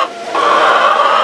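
Backyard chickens cluck in a steady, close chorus, a continuous busy chatter with no talking over it.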